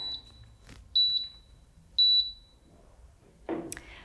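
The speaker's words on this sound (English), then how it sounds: "So it does beep as it starts up." A DeerRun A1 Pro treadmill starting up gives a short electronic chirp followed by two louder, clear high-pitched beeps about a second apart, then a soft thump and rustle as the belt begins in a quiet room.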